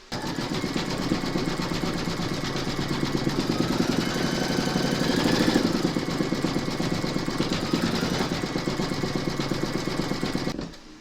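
An embroidery machine stitching gold thread, a steady close mechanical chatter of rapid needle strokes running without a break over a low motor hum, then stopping at the end.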